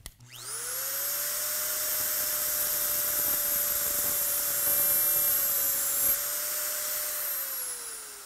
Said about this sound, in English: what we want to use is a cutoff wheel on this particular tungsten grinder